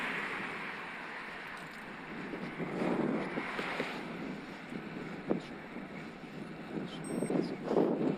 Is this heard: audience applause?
no